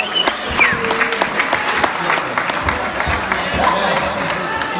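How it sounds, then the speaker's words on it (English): A crowd at an FCA talk claps and cheers for its leaders, lively sustained applause with scattered whoops and voices mixed in. "Round of applause, everybody"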